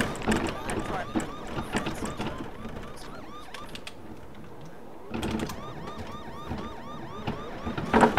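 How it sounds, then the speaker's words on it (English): Warbling police car siren from BeamNG.drive, cycling up and down, fading out midway and returning strongly, under game engine noise and excited chatter from players. "This police car is too powerful."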